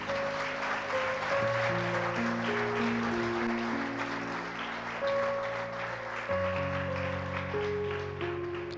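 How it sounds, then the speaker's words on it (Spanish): A church congregation claps for the Lord during a worship service, a steady wash of applause heard faintly beneath sustained keyboard chords that carry on throughout. "Yo quiero que usted le brinde un fuerte aplauso al Señor."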